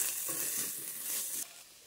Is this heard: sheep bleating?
no